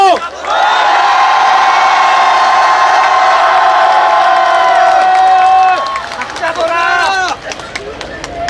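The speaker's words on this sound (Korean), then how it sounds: "모두 함께 힘찬 연대 함성 질러주십시오." A large rally crowd at a memorial gathering for the Sewol ferry disaster lets out a loud, sustained collective roar of shouting for several seconds, then breaks into scattered cheers and whoops as it tapers off.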